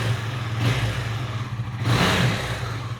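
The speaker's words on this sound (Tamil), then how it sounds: "வண்டி இப்போ ஸ்டார்ட் பண்ணிடலாமா?" KTM Duke 390 motorcycle engine idling after an oil, fuel filter and air filter service, with two swells of revving over a steady low rumble, close and alone.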